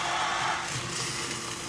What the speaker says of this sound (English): I got some tea boiling, but some water had got under.